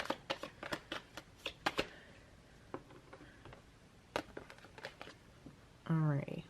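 Tarot cards are shuffled by hand in a quick run of crisp riffling snaps up close, then a few slower flicks and a brief louder rustle at the end.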